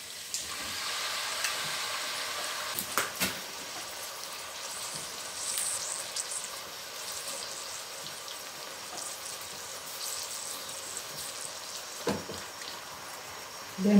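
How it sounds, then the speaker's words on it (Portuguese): Pork cracklings fry on a wood-fired farmhouse stove, giving a soft, steady sizzle with faint crackles and occasional stirring clatter, heard at low level throughout. "Demora mais pra fritar, gente."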